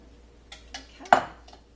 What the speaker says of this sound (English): I have a plastic spoon that I'm going to use just to gently stir my grains and get the last little bits of the kefir out.